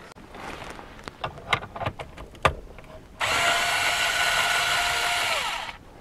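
A power tool backs out 10 mm bolts from a car radio mount during a Pioneer AVH-4200NEX head unit installation. Several sharp clicks and knocks come first, then a loud, steady whirring run of about three seconds that winds down, with no talking.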